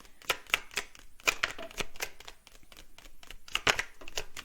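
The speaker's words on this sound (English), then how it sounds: "Shuffle, shuffle, shuffle." A tarot deck is shuffled by hand: crisp, rapid papery clicks and riffles in irregular bursts, close and fairly quiet, with short pauses between runs.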